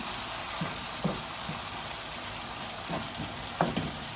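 Steady, dense sizzling of masala with ginger-garlic paste frying in a hot pan, close up, with a few soft scraping stirs now and then.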